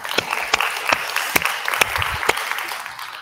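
Audience applause for speaker Andrea Amiko at the FLUOROS conference, a steady wash of clapping from a crowd with several sharper individual claps standing out, moderately loud and sustained throughout.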